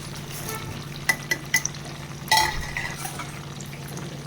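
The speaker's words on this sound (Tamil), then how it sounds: "கல்லுப்பு சேர்த்திட்டு நல்லா கொஞ்சம் கிளறி விட்டுக்கலாம்." Raw mango pieces and rock salt fry in oil for a spicy mango pickle, with a steady sizzle and a few sharp scraping knocks from a spoon stirring the pan up close.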